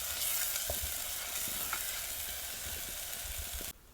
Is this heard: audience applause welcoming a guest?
no